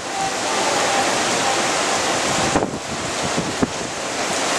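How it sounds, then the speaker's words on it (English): Strong hurricane wind gusts during Hurricane Fay, roaring as a steady loud broadband rush near a sheltered spot by bathrooms and a moored sailboat, with a couple of brief buffeting bumps against the microphone. "Pretty good gusts going on over here."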